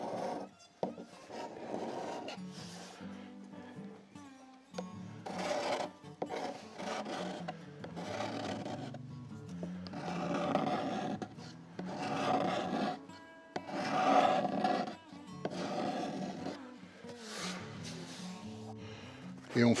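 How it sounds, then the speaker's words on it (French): Card scraper drawn over pink ivory wood, repeated rasping strokes in uneven bursts, close and fairly loud, with short pauses between passes. "Et ensuite, on fait une passe au racloir."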